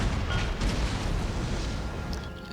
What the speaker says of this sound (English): barrage of cannon fire